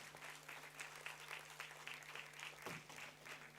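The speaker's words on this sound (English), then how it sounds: "Let's congratulate them all with a warm round of applause" Applause from a graduation ceremony audience, fairly quiet and distant, steady clapping under a constant low hum with no talk.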